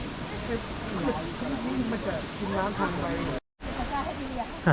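Huai Luang waterfall in Phu Chong–Na Yoi National Park, Ubon Ratchathani, pours with a steady broad rushing roar, briefly cut out, while someone talks over it.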